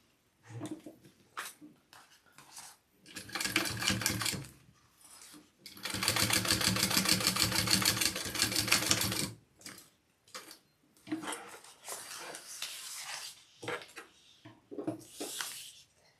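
A sewing machine runs a top stitch in short, stop-start bursts of rapid mechanical whirring and ticking, with one longer run of a few seconds. Quieter pauses and small clicks fall between the bursts.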